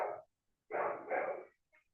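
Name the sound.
dog howling in the background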